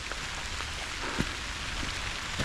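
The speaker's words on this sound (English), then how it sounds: "it's the first rain of this trip." Steady rain patters outdoors on a hillside during a wild-camping hike, a constant close wash of drops with a few slightly louder taps, and no talking.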